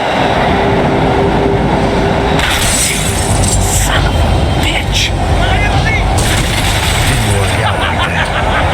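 Tram rumbling along rails in the Max Payne 3 video game, a loud continuous low roar of wheels and carriage noise with clanks and metallic scrapes over a game soundscape.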